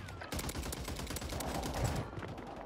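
Rapid bursts of automatic gunfire crackle at moderate distance in a Warzone 3 match near a gas station, a dense volley of close-spaced shots lasting a couple of seconds.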